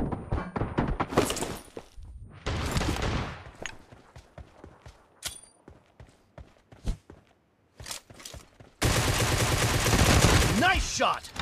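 Sharp gunshots crack out in a shooting video game, some in quick bursts and others single, with footsteps between them and a loud sustained burst of fire at the end.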